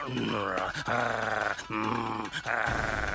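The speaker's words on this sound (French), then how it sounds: "Mais c'est le chien de Yamkumi." A dog growls low and rough in bursts with short breaks, close and fairly loud, in a quiet neighbourhood setting at night.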